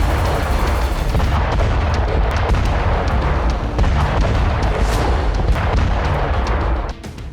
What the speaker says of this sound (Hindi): डोनेस्क में रूस ने रॉकेट लॉन्चर से भीषण अटैक किया।